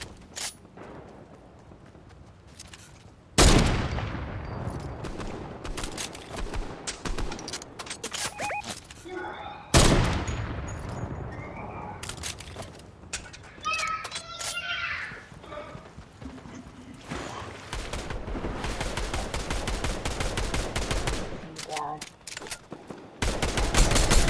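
Gunfire in the video game Fortnite, with sharp loud shots and bursts spread across the stretch alongside scattered game noise and clatter, some bursts near and loud, others quieter.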